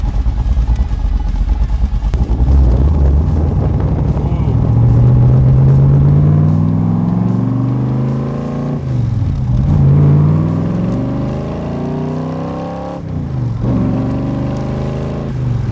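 A 500-horsepower 1965 Backdraft Cobra replica with a Tremec gearbox revs hard nearby, its loud engine note rising and falling in several surges, dipping between pulls, with no talking over it.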